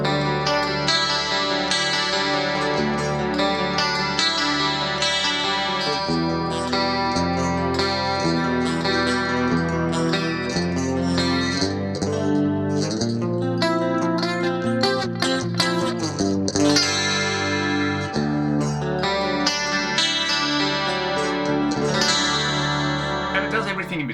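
A BOSS GS-1 electric guitar on an in-between pickup position gives a shimmering 80s clean tone with chorus and echo, strummed chords and arpeggiated notes ringing continuously with no talking.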